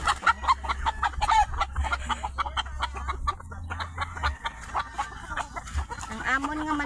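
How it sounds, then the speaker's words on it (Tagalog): Chickens cluck and squawk close by on a Philippine farm, busy overlapping calls continuing throughout, with a low engine hum underneath. "Nakalbasi mo manok ko."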